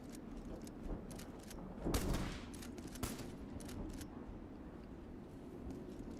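Gunfire in the video game Metal Garden, a steady crackle of shots across a noisy battle, with a louder burst near the middle and another sharp report a second later.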